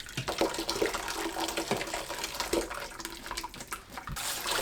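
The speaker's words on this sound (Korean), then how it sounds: "찬물에 헹궈내세요." Beef for soup rinsed under cold running water, a steady splashing tap stream with sloshing and small knocks from handling the meat, close and continuous throughout.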